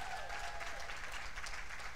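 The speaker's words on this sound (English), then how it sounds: "I want to see my boss clapping in the background there" Audience clapping at a policy conference, steady and continuous across the whole stretch at moderate distance, with faint voices murmuring beneath the applause.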